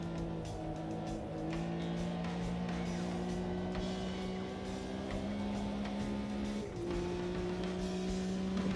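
Porsche race car engine droning steadily in a racing video game, a sustained near tone holding pitch with a brief dip around the middle, loud and continuous with no talk.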